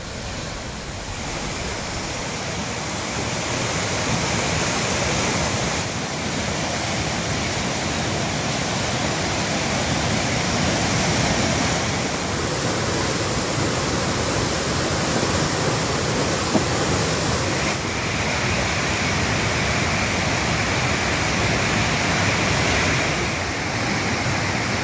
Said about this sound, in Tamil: கன்னியாகுமரி திருப்பரப்பு அருவியில் தண்ணீர் ஆக்ரோஷமாக கொட்டுகிறது